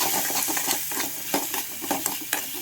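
Egg curry masala with coriander powder sautéing in a pan, a steady loud sizzle with rhythmic scraping and stirring taps from the spoon throughout, close and alone.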